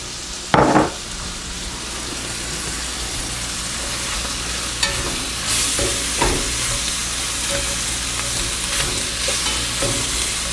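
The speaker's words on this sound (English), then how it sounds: "Now I will throw the onions in." Onions and mushrooms sizzle steadily in a frying pan, with an opening clatter as the onions go in and a few later knocks of a utensil against the pan.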